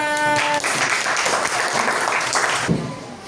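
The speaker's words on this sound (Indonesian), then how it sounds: "Oke, beri tepuk tangan." A classroom of students applauds a group presentation in a sixth-grade science class, with dense clapping filling the room for about two and a half seconds before fading, and a few voices heard briefly at the start.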